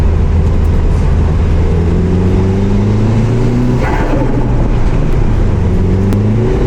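Car on a test drive after an auction purchase in Japan, with a steady engine drone and gear changes rising through the revs, loud and close from inside the cabin with no talking.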